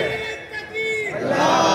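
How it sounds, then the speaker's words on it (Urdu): A crowd at a religious gathering chants the takbir slogan in unison, a loud sustained collective shout that swells toward the end. "وہ نعرہ تکبیر جو بلند ہوتا ہے"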